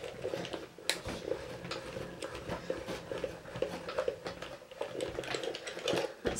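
A Gemini Mini die-cutting machine runs a large typewriter die and plates through its rollers with a steady, busy whirring grind and scattered clicks and rattles, continuous and fairly close.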